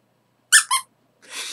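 Squeaky toy cone figure giving two quick sharp squeaks followed by a longer airy squeeze, alone in a quiet room.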